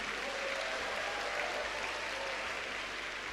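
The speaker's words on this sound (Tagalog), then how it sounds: "Lakasan niyo po yung palakpak niyo" Applause from a church congregation fills the room, steady and dense throughout with no clear break, the clapping loud and sustained without voices above it.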